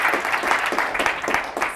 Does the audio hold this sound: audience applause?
yes